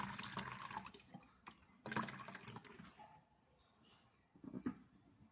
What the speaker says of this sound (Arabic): هنحط نص كوبايه خل